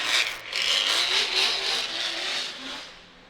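DTM-style Audi A5 race car, a former street car, running at a drift event on the Suzuka track, a loud rasping engine with pulsing revs heard from a distance, fading toward the end.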